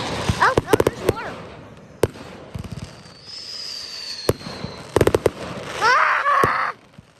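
Fourth of July fireworks burst outdoors in a series of sharp booms and crackling pops, some close and loud, others farther off, with a whistling rise among them and a person speaking briefly between the blasts.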